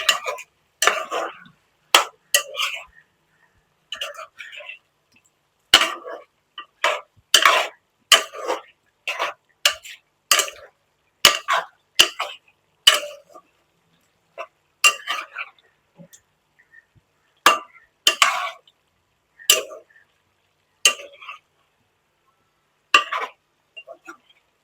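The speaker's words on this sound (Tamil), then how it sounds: "சால்ட்டு போட்டதுக்கப்புறம் திருப்பி நல்லா கிளறி விடணும்" Stirring pepper chicken in a pan after salt goes in: a close run of sharp spoon-on-metal scrapes and clinks in short irregular bursts separated by brief silences, with no voices.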